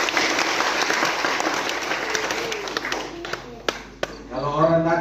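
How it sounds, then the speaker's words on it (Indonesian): Audience applause at an outdoor church gathering and social service event in East Nusa Tenggara, a dense wash of many hands clapping that thins out toward the end, with scattered loud claps and a voice rising at the close. "tepuk tangan dulu."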